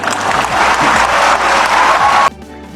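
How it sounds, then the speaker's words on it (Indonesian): Audience applause at a public talk in Indonesia, a loud, dense wash of clapping from a crowd that cuts off abruptly near the end, leaving a quieter room. "Kok tepuk tangannya tidak bersemangat?"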